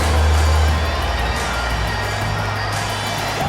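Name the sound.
crowd applause and cheering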